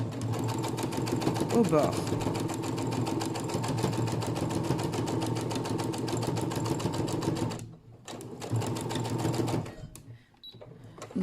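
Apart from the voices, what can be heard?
sewing machine stitching pinned ribbon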